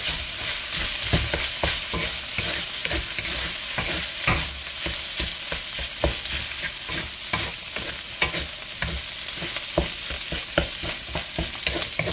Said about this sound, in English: Put your rice over top of it. And then start stirring.